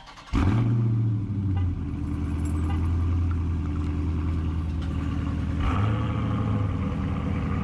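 A Dodge Durango with a Hemi V8 cold-starts with a loud cranking burst and deep rumbling idle nearby, then another engine fires up later, adding a second swell over the steady drone.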